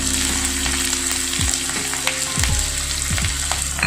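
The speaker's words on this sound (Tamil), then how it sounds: "இஞ்சி பூண்டு நல்லா கொஞ்சம் வதங்கட்டும்." Ginger and garlic sauté in a hot pan for restaurant-style chicken Manchurian, a steady close sizzle with a few soft stirring scrapes throughout.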